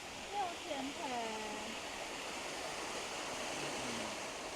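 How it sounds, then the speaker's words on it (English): A small waterfall in Beitou Thermal Valley park pours as a steady broadband rush close by, while someone talks briefly over it at the start. "they have a little waterfall right here."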